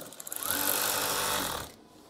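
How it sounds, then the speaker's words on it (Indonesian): Sewing machine stitching a fold in a curtain, a close loud continuous whirring run that starts with a few quick taps, holds for about a second, then stops abruptly, no talk. "Kemudian jahit."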